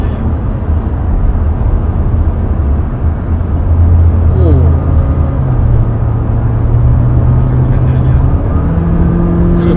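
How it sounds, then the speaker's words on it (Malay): A Honda City Hatchback RS 2022 engine drones loudly and steadily from close by, its tone climbing gradually as the car accelerates, with a low road rumble underneath. "Enjin tu kuat sikit dah"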